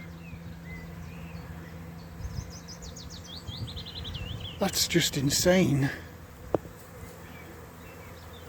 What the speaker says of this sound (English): The sky is absolutely full of bees.